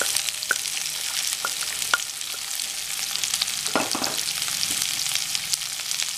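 Chopped large onions frying with cumin seeds in a pan, a continuous sizzling crackle with a few scraping stirs and clinks of a utensil, no voices.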